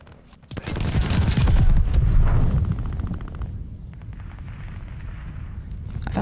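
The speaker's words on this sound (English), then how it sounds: "Freaking sticky bomb hit the wrong thing." A sticky bomb explodes in the Call of Duty video game, a loud close boom with a rumbling burst that swells and then fades into a lingering low roar, with no talking.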